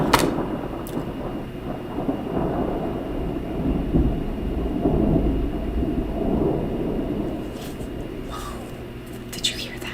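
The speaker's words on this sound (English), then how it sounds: "It's thundering." Thunder rolling during a thunderstorm: a long, continuous low rumble that swells and fades over several seconds, with a few faint bird chirps near the end.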